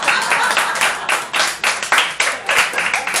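Clapping at a political congress session, a close, loud burst of many hands beating in uneven pulses that swell and dip for several seconds, with no talking over it.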